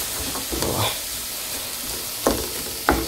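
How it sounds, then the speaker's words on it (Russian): Onions sizzle steadily in a hot pan, a constant crackling hiss with a few louder clicks of stirring near the end. "жарить лук поставил."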